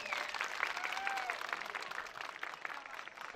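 An audience applauds at an outdoor walnut and culture festival in Çağlayancerit, Kahramanmaraş, giving even, continuous crowd clapping of moderate loudness with faint voices mixed in.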